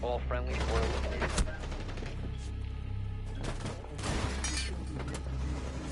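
Gunfire from Rainbow Six Siege ranked play, with repeated bursts and volleys of shots over a busy, dense game mix while a voice talks throughout.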